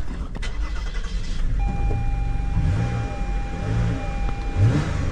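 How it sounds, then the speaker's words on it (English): 2018 Toyota Sienna with a suspected bad ground cranking and catching, then idling roughly with a misfire; the engine runs close by with an uneven low rumble and a steady electronic warning tone. "Let's see, does the car still start?"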